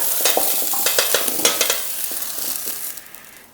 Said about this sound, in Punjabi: ਦੇਖ ਪਾ ਰਹੇ ਹੋ ਕਿ ਗੋਭੀ ਆਪਣੀ ਸ਼ੈਲੋ ਫਰਾਈ ਹੋ ਚੁੱਕੀ ਹੈ